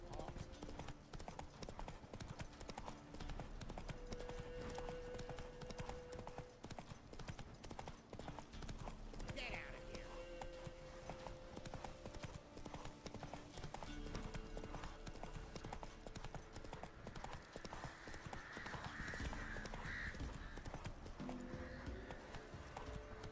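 Horse hooves gallop in a rapid, steady clip-clop rhythm throughout this ride in The Witcher 3, continuous and close, with occasional snorts and game voices layered over the pounding gait.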